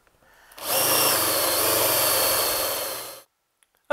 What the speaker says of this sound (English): we got the hole drilled for the center of our chassis punch